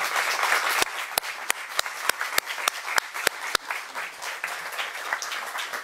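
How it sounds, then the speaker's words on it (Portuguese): Applause at a book launch in Lisbon, a modest wash of clapping with a series of sharp, loud individual claps standing out in a regular rhythm, then softening. "eu peço, obviamente, a vossa salva de palmas."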